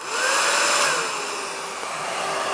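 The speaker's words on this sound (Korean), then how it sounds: "이제 드라이기" A steady, broadband whooshing blower noise from a hair dryer drying modeling clay close by, holding constant for a few seconds with no voices.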